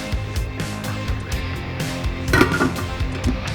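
A wok is set down on a stove for a stir fry, a clunk and scrape of metal on the burner with a brief clink, close by amid low background hum.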